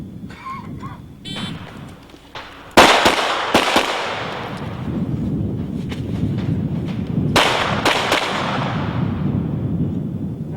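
Pistol shots at a 1997 IDPA Invitational shooting stage with Glock, Springfield and Colt teams, two sharp loud clusters of rapid gunfire a few seconds apart, ringing out over a murmuring crowd outdoors.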